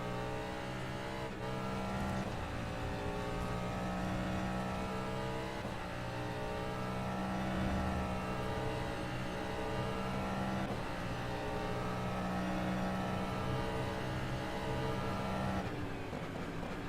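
Simulated LMP2 prototype race car in rFactor 2, engine droning loudly and steadily with harmonic tones that shift as it brakes hard and downshifts into a corner, continuous with no talk.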